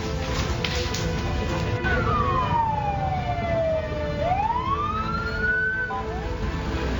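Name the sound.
fire engine siren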